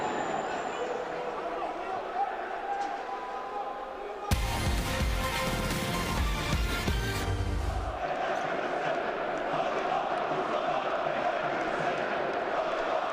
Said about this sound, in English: This rhythmic chanting and singing,